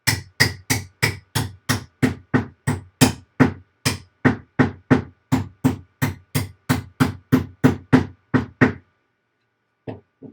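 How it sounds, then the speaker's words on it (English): A wooden piece is hammered in with a long run of about twenty-five evenly spaced, sharp knocks, close and loud, then a pause and two final taps; no squeak stands out clearly. "You can kind of hear the wood squeak as you hammer it in."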